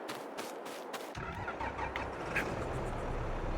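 A stump grinder's engine starts in Farming Simulator 22, turning over with a few cranking bursts before catching at about one second and settling into a steady, close mechanical rumble with no talk.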